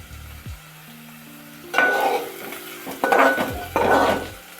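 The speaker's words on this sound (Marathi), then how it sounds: "जरा परतवून घेऊ." Grated fresh coconut is sautéed in a pan for a Konkani cashew-nut vegetable dish, with short bursts of scraping and sizzling from a spatula against the pan amid quieter pauses.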